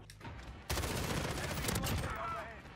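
M13 assault rifle fire in Modern Warfare, a sudden dense burst of rapid gunshots that starts after a brief lead-in and continues loudly for about two seconds, with game sounds mixed in.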